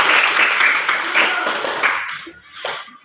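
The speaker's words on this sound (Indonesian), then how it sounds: "Oke, tepuk tangan" A class of schoolchildren claps together in a classroom, a dense burst of applause that tapers off and thins into a few scattered claps by the end.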